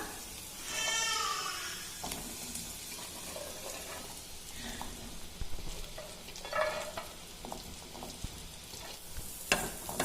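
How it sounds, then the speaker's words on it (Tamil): Chickpeas with onions and chopped coriander are sautéed in a pan for a sundal snack, with a soft steady sizzle under repeated scraping and stirring strokes of a spoon, close by and with no talk. "நல்லா வதக்கி விட்டுக்கலாம் எல்லாத்தையும் ஒண்ணா."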